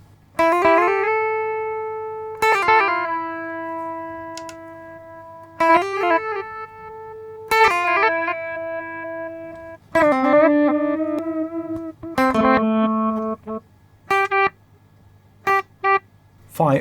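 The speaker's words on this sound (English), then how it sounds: "Phi switches between standard and reverse delay." Clean guitar notes through an Eventide Rose delay pedal in reverse delay mode ring out in phrases, each one swelling in and cut off abruptly as reversed echoes bloom behind them, ending with short choppy stabs.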